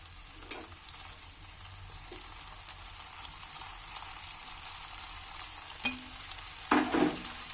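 Chow mein noodles with vegetables in a pan under a steady, fairly quiet frying hiss, with a few soft stirring scrapes and clicks, two clustered near the end.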